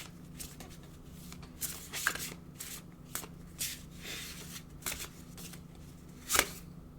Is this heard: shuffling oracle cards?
yes